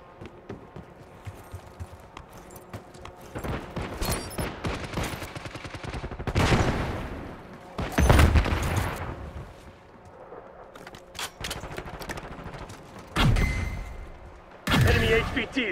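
Multiplayer battle gunfire in Call of Duty Black Ops 6, with rapid automatic bursts and scattered single shots, several sharp loud volleys standing out over a busy background of distant combat noise.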